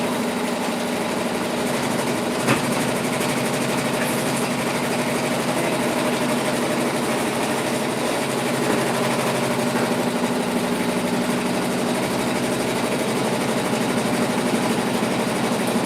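An embroidery machine stitches a pumpkin lantern in the hoop with a steady, continuous mechanical whir and rapid needle chatter, loud and close, running without pause.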